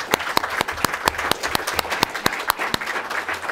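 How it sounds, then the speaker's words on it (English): An audience applauds speakers at a panel on China's shale gas and coal, steady dense clapping with a few sharp louder claps standing out, fairly close and continuous. "Applause for these speakers,"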